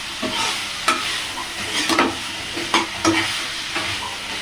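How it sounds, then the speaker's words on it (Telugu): Potato fry (aloo fry) being stirred in a pan over low heat, a steady sizzle with repeated scraping strokes of a spoon at irregular intervals, close and fairly loud, with no talking. "ఇలా ఆలుగడ్డ ఫ్రై కదా, ఇలా కలుపుతూ సిమ్లో పెట్టాలి వంట"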